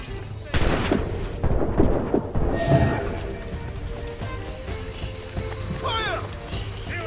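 Ship crew gunfire in the video game Assassin's Creed Rogue, with loud repeated cracking shots and booms over a dense battle din, while voices shout through the scene.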